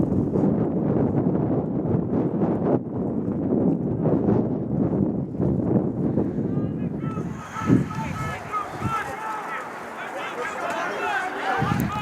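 Strong wind gusts buffet the microphone at an outdoor soccer match, a heavy rumbling roar blasting through the first half, then giving way to quieter, scattered noise with a brief thump.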